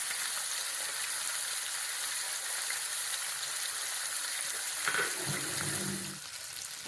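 Chicken pieces fry in oil for a coconut milk chicken dish, producing a steady, bright hiss of sizzling that holds evenly, then a short clatter of movement near the end before the sizzle settles slightly quieter.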